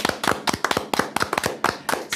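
People applaud in quick, fairly loud bursts of clapping, close by, after a Korean panel reacts to a Constitutional Court impeachment ruling. The clapping comes in rhythmic clusters with no talking.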